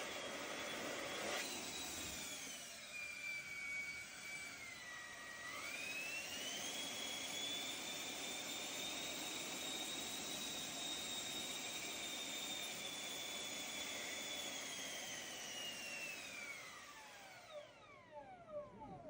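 A drone power system's electric motor running at about 40% throttle, a loud steady high whine that rises, holds for a long stretch, then spins down at the end, no talk.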